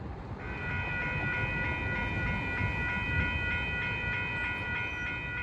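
A train approaches an older railroad crossing with insulated-joint activation, a steady, loud rumble throughout, joined after about half a second by a sustained ringing tone that holds to the end.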